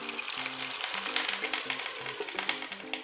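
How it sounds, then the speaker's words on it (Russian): Meat cutlets made from freshly minced meat fry in a hot pan with a steady, close, crackling sizzle, while faint low tones sound in short bursts underneath. "Здесь у меня жарятся котлетки."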